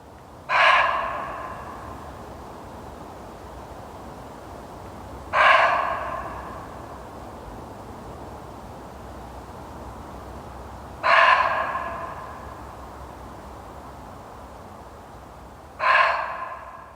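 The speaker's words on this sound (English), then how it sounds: "I think it's the sound of a slightly upset roe deer." An upset roe deer calls in woodland at night, four loud, harsh barking cries spaced about five seconds apart, each one short and alone over a quiet background hiss.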